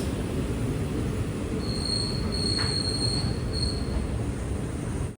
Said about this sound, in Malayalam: ട്രെയിൻ ഇതാ ചെറിയനാട് സ്റ്റേഷനിലേക്ക് എത്തുകയാണ്